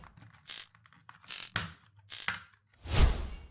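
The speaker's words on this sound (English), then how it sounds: "we use the lipper in the corners to remove the front fascia" A plastic pry tool working the front fascia off a PS5 controller, giving several sharp clicking snaps in separate bursts, with a louder crack at the end, close and alone.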